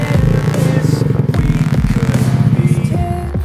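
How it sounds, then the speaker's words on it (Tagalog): An Easyride 150 FI motorcycle engine bored up to 175cc runs loud and steady nearby, a continuous low throaty idle with rattling mechanical clatter and slight revving, with no talk over it. "kukunan Papi yung motor niya, oh"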